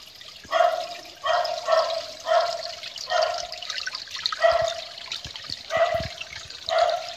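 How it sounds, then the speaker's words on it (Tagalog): A stream on a farm trickles and gurgles steadily, with regular pulsing surges of running water close by and no talking. "So ito po yung sapa."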